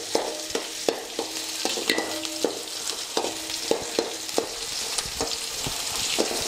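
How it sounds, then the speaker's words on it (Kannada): Curry leaves crackle and sizzle in hot oil in a large pot while being stirred, with sharp spoon scrapes and knocks recurring every half second or so over a steady frying hiss, close and fairly loud, no voices. "ಈಗ ನಾನು ಕರಿಬೇವು ಹಾಕೋತೀನಿ ರೀ"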